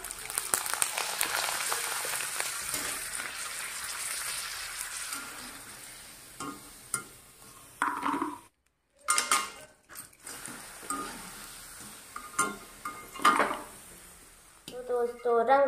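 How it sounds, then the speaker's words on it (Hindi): Colored potato chips fry in hot oil with a steady, soft sizzle and hiss, broken by a short pause and occasional clinks of a utensil against the pan, with someone speaking at times. "अब हम दूसरी कलर वाली चिप्स को भी फ्राई करेंगे"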